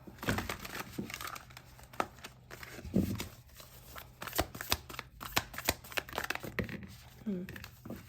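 Oracle cards being shuffled up close, a quiet series of soft papery flutters, riffles and crinkles in irregular bursts.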